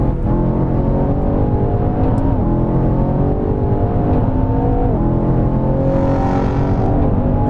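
A NOHESI car powers up the Goodwood Hillclimb, its engine droning loud and close in a continuous high-revving roar, pitch climbing and dropping briefly at shifts, with tire and wind hiss near the end.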